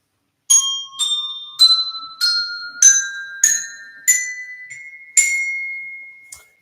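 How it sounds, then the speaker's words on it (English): Montessori music bells are struck one after another in a rising scale, each clear metallic tone ringing and decaying before the next, nine bright notes with a final soft tap, close and alone. "here you have the Montessori music bells"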